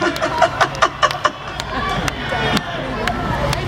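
An outdoor crowd at a farm tour concert on Spangler Farms claps in a few sharp bursts, then keeps up a steady cheer and clapping. Voices sound close among them.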